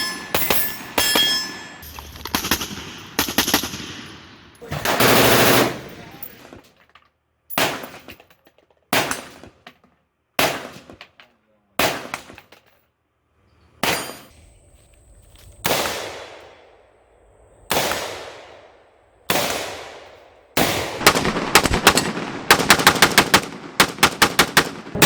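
An AR-15 rifle with a PSA 16-inch mid-length upper fires loud, sharp gunshots outdoors, an opening rapid string, then single spaced shots, ending in another fast burst.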